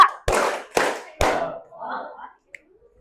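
A group of students in a guidance-counselling class claps in unison: three sharp, close-spaced hand claps, each ringing briefly, followed by a short cheer of voices that trails off.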